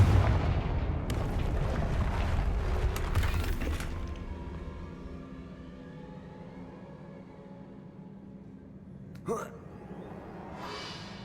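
Confringo explosive spell blasts in the video game Hogwarts Legacy: a loud rumbling boom at the start that decays into a long low rolling tail, followed later by a single sharper crack.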